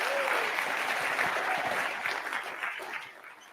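An audience at a sustainable food innovation event applauds three contestants on sustainable livestock, a dense, steady burst of clapping that holds strong and then gradually thins out toward the end.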